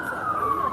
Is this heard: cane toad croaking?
no